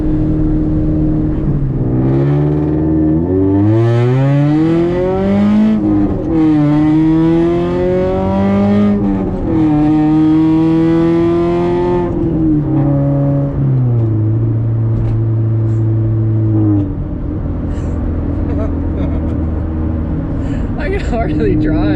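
Car fitted with an Ace front pipe exhaust revving up through the gears, its loud engine tone sweeping up and dropping with each shift before settling into a steady drone, close by and continuous.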